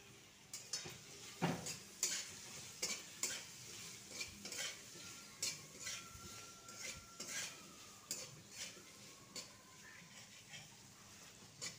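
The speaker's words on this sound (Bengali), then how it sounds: "দু মিনিট হাই ফ্লেমে ভেজে নিলাম।" Chilli paneer mixture with green chillies and salt frying on a high flame, with repeated spoon scrapes and clinks against the pan over a steady low sizzle.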